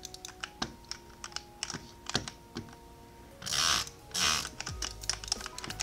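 Rapid drag clicking on a computer mouse during a Minecraft bridge game: a close run of sharp clicks with two dense buzzing bursts of very fast clicking, and no voice.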